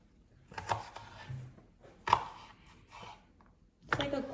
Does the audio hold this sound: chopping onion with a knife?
yes